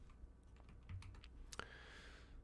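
Computer keyboard typing, a string of quick soft key clicks in an uneven rhythm, close and quiet, ending on one sharper tap.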